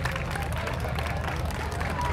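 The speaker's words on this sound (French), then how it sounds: "Sous vos applaudissements, mesdames et messieurs." An outdoor crowd at a motorcycle festival applauds a balloon release: steady, dense clapping mixed with crowd murmur, continuous and moderately distant throughout.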